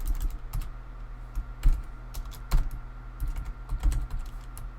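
Close clicking of keys on a computer keyboard, typed in uneven bursts with a few heavier taps, fairly quiet with no talk.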